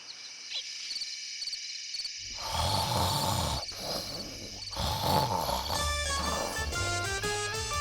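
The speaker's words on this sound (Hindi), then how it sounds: "ऐसे खर्राटे ले रही है जैसे बाघ गुर्रा रहा है।" A cartoon character snores in loud, growling bursts against a busy, tonal cartoon soundtrack, with the sound getting thicker after the first couple of seconds and continuing steadily to the end.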